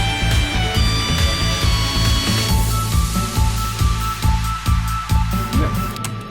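Energetic flying-style game music loop made on a Korg M1 synthesizer, with a pulsing low bass pattern and bright layered synth parts, plus a sweeping synth effect added at the start, steady and loud throughout.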